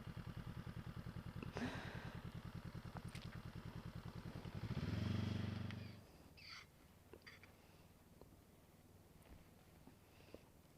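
Motorcycle engine running steadily through a cone bend exercise in third gear at a test centre, a close even throbbing that swells then drops away after about six seconds, leaving a faint distant engine and light clatter.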